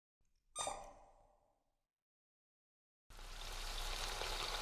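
Frying meat and sugar imitate Minecraft rain: a sizzling burst fades out, a stretch of silence follows, then a loud, steady, crackling hiss starts abruptly and continues.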